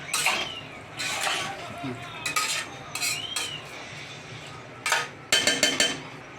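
A metal lid meets a pot of chicken curry with a few sharp clinks and clatters, spread out in separate bursts over a faint background sizzle.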